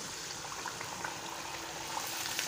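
Soft, continuous bubbling sizzle of rice-flour papdi frying in hot oil in a small kadai, fairly quiet and steady throughout.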